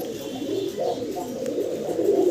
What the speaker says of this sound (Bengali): কি কবুতর দেখাইতেছেন ভাই এটা ভাই গ্রিজেল টাইগার টাইগার গ্রিজেল